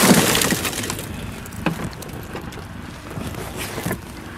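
A car window pane is smashed with an emergency hammer. A sharp crack of breaking glass comes first, then scattered crunching and tinkling as shards settle, close and fairly loud, with no talking.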